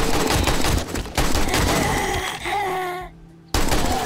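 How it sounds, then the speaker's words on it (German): Rapid bursts of gunfire from the zombie survival game 7 Days to Die, Alpha 21, loud and dense with a brief drop to near silence before the shots resume. "Das waren kontrollierte Schüsse, waren das."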